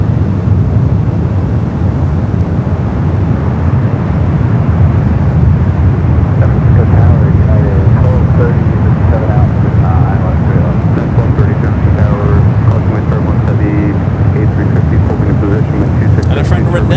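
An airplane departing San Francisco airport, its loud roaring engine noise sustained and building throughout with some wind buffeting, while someone talks faintly beneath.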